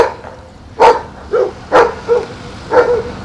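A dog barks outdoors in Cherrapunji: five loud, fairly close barks in short bursts at uneven intervals over a quiet background, with no one talking.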